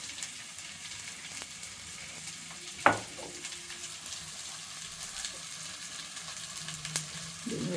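Vegetables frying in oil for a veg kadai biryani, a low steady sizzle with a sharp clack of a utensil on the pan and a few softer taps, close by.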